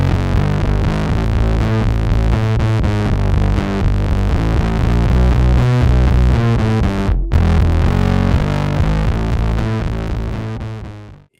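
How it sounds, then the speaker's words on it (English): A heavily distorted electric bass line in a song, played on a Status bass with LED lights, fresh strings and a distortion pedal, loud and thick with a steady throbbing pulse and a brief cut near the end. "his status bass with the cool LED lights and his fresh strings and his distortion pedal"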